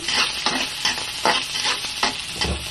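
Garlic and onion sautéing in a pan for a simple vegetable dish, soft sizzling broken by rhythmic scraping stirs about every half second, close and moderately loud.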